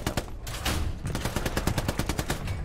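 Rapid machine-gun fire in Hell Let Loose, aimed at a tank, as a loud close stream of evenly spaced shots that runs without a break.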